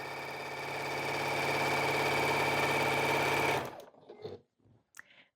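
A sewing machine stitches quilt borders in a steady, fast mechanical whir for several seconds, then stops abruptly, leaving a few faint handling noises.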